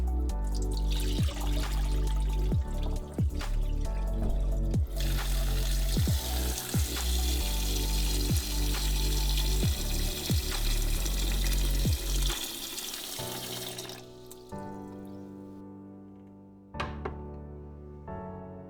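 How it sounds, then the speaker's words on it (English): Water pours steadily over potatoes in a pot in a kitchen, a loud continuous rush with repeated knocks and thunks, then tapering into drips and a few clanks. "afterwards I'm pouring another round of water over it"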